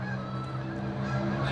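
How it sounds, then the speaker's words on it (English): Geese honking, a dense, steady, fairly loud honking blended with a low rumble, heard alone without speech. "Interrupted by geese and loud vehicles with mufflers"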